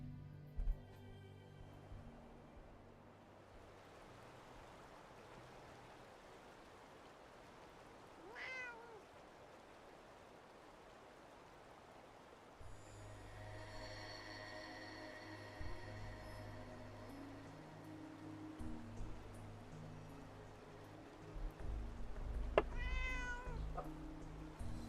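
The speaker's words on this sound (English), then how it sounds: "Oh, there's a cat." A cat meows a couple of times, faint and somewhat distant, under a low droning background hum and a steady noise bed, with no talking.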